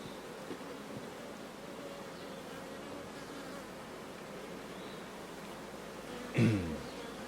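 Honeybees buzzing in an open hive during an inspection of a once-abandoned colony, a steady, close, droning hum with a short louder burst near the end.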